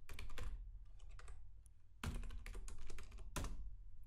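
Close fingers typing on a computer keyboard, with quick clattering key presses in two short bursts and a brief pause between them.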